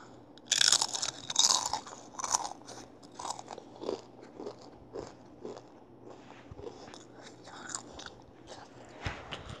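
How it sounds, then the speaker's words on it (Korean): A child bites into a large, layered crispy snack, giving loud, close crunches in quick bursts, then a series of softer chewing crackles that continue at a steady pace with no talking. "이번에는 제일 큰 거, 제일 큰 거. 소리가 많이 바삭날 것 같아요."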